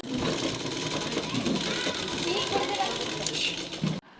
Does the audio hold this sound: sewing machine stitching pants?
yes